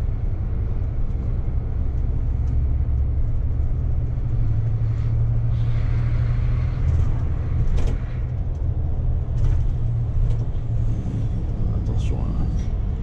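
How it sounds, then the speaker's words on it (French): A Bova Futura FHD coach rolls along under retarder braking, a steady low rumbling drone with faint higher whine, heard from inside the cabin with some quiet background voices. "Je sais pas si on entend sur la GoPro le ralentisseur"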